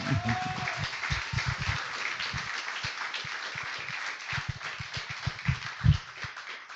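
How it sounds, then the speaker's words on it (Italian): A church congregation applauds to welcome a speaker back, a moderate patter of clapping with irregular low thumps scattered through it and a brief voice at the start. "vorrei che lo potessimo accogliere con un applauso"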